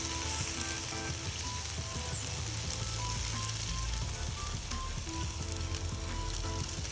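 Pork skewers sizzle and crackle steadily on a grill as the second side is basted with sauce, a close, continuous frying hiss with small pops and no voices.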